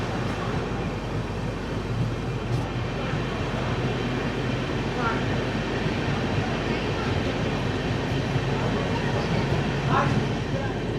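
Superfast express train 12164, Chennai Central to Mumbai LTT, pulling out of the platform at Tiruttani, a steady loud rumble of rolling wagons throughout with faint voices under it.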